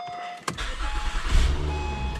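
A 2010 Acura TL engine cranks and catches close by, rising into a loud rumbling start and settling toward idle within a couple of seconds.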